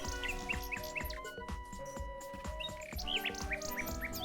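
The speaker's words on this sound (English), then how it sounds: "A nightingale perches on a high branch of the tree. She sings the most beautiful song Alexander has ever heard." A nightingale sings in King's Quest 6, bright rapid chirps and trills repeating over a steady synthesized music backdrop, clear and close throughout.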